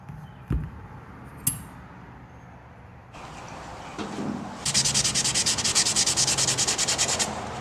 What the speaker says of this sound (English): The factory got some paint and stuff inside of this, so he sanded it down